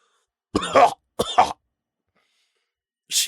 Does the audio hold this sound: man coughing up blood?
yes